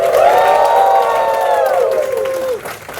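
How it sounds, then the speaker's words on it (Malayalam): A training-seminar audience in Calicut breaks into a short burst of applause mixed with rising and falling cheering voices, loud and close, fading after a few seconds. "ഒരു കീസോൾ കൈയടി അടിച്ചിട്ട് നമുക്ക് ആ പോയിന്റിലേക്ക് പോവാം"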